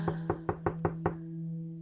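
Six quick, evenly spaced knocks land on a door over a steady low electrical hum, fairly close and otherwise quiet, then stop.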